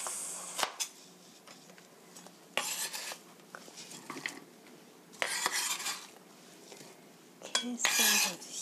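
A knife taps and scrapes in irregular bursts against a cutting board as ingredients are diced for a stir-fried curry chicken dish, with sharp clinks and short pauses between cuts, close and fairly quiet.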